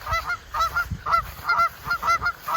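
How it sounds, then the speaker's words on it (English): Geese honk loudly and repeatedly in close, uneven bursts, several birds calling over one another with short gaps between volleys. "Friggin' hate geese, man."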